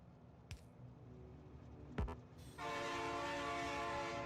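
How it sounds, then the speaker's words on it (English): A train in the Factorio Space Exploration game passes with a couple of sharp clanks, then a loud, steady rolling rumble with a bright tonal whine that holds to the end. "Yep, that's a train."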